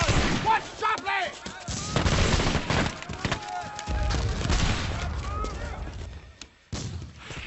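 Musket fire and artillery crack and boom in a battle scene set among colonial-era troops and the French, loud shots and blasts overlapping with shouting voices.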